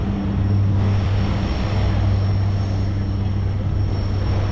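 Steady, loud propeller engine drone from a Harbour Air seaplane flying past overhead, sustained without a break and with no talking.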